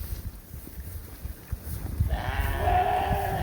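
Sheep bleat from a farm flock, a short nasal call rising near the end over low background rustle and thumps.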